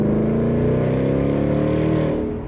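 A car fitted with a Roush axle-back exhaust rumbles loudly and close, a deep steady exhaust drone that holds for a couple of seconds and then eases off slightly at the end.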